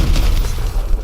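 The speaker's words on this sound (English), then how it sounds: "Good nade, sir." A grenade goes off in a video game, a single loud, close, low booming blast that rumbles for about a second.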